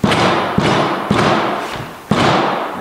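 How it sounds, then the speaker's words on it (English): An aircraft framework of aluminum tubing, an Aerolite 103 aileron or flap, banged against a corner: four loud, close, hollow thuds roughly half a second apart, each decaying quickly, with no talk. "you can bang the framework on the corner here so you don't crush any of the"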